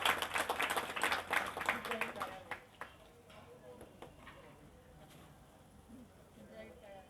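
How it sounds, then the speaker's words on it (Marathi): A gathering at a religious satsang claps to welcome guests, a lively burst of hand claps for about two seconds that quickly thins out and fades into a quieter room. "सर्वांनी टाळ्या वाजवून आपण त्यांचं स्वागत करू"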